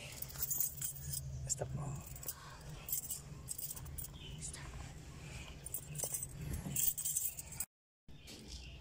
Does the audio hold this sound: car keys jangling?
yes